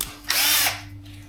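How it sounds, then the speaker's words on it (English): A power drill spins a valve to lap it into the seat of a junkyard LS cylinder head, giving one short, loud whirring burst that starts and stops abruptly. "Then we're going to take our drill,"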